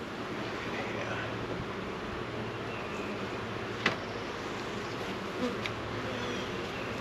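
Honeybees hum in a soft, continuous drone around an open hive during an inspection, close and steady, with a few faint clicks and knocks of handling; no talking.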